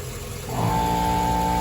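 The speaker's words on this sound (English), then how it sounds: "we're almost up to running full temperature already. We're idling pretty good." A van's engine idles as it warms up toward running temperature, a steady mid-pitched drone with a constant tonal hum that swells in after a brief quieter start and holds evenly close by.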